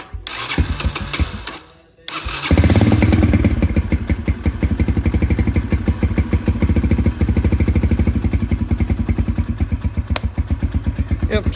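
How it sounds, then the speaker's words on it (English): Honda 200X dirt bike fitted with a swapped Chinese engine cranks after a brief pause, then settles into a close, steady, rapid single-cylinder putter with an even pulsing rhythm, no talk. "I still have the dirt bike. I don't know if it'll crank."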